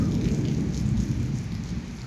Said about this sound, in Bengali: এই দেখুন বৃষ্টি হর, খুব বেশি হর বৃষ্টিটা